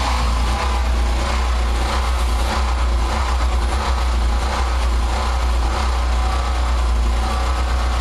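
A generator engine set at half choke and running low on fuel drones loudly and continuously nearby, a dense, rough, roaring hum with a faint irregular unevenness in its low throb.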